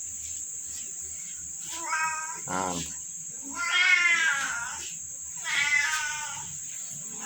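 Several kittens and cats meow repeatedly indoors, drawn-out mewing cries in bursts against a steady high electrical whine, with a brief spoken word.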